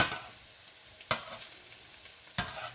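Tuna patties frying in a pan and being flipped with a spatula: a soft constant sizzle broken by two sharp scraping clacks of the turns, with small crackles between them.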